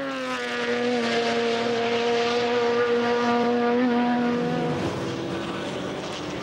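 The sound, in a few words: Team Falcon Nissan Z33 race car at Nürburgring 24-hour race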